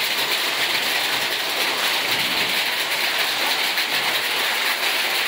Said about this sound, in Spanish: se está soltando una granizada, pero buena y brava